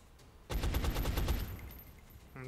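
A rapid burst of gunfire in the XCOM strategy game, a quick string of sharp cracks fired close and loud, then a fading rumbling tail.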